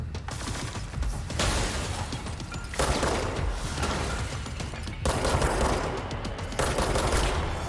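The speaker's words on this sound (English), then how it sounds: "Where's the other gunshots coming from?" Rapid bursts of gunfire in the video game Control, dense and loud, coming in waves with brief lulls between volleys.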